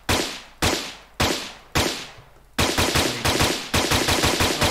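Automatic rifle fire in an Unreal Engine 5 third-person multiplayer shooter game: four spaced single shots with long ringing tails, then a rapid sustained burst of close, loud rounds.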